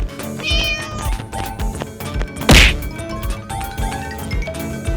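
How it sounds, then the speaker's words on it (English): A cat meows once amid busy music and effects, with a sharp whack near the middle. "Cat."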